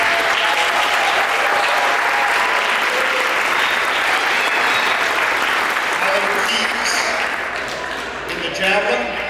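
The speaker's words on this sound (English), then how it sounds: "we'll give you a nice applause" School sports awards audience applauds athletes heading to the state meet, a long, full round of clapping from many hands that tapers slightly near the end as someone begins speaking.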